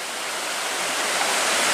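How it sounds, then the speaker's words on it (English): A waterfall near Two Medicine Lake in Glacier National Park gives off a steady, loud, close rush of falling water, an unbroken hiss that swells slightly toward the end. "We're chilling at the waterfalls right now."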